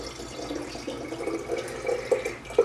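Fruit wine poured through a sanitized funnel into a fermenting vessel during transfer, a steady close splashing and gurgling flow with a few louder glugs near the end.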